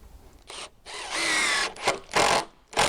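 A power drill drives screws into wooden deck boards near the board ends, sounding in several short whirring bursts of varying length with brief pauses between them.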